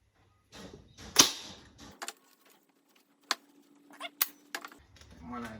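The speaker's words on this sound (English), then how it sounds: "Then we'll just staple one down." Staple gun driving staples through fabric into a wooden chair frame during upholstery repair, a few sharp snapping clicks spaced apart, close and fairly loud, with faint speech and handling noise at the start.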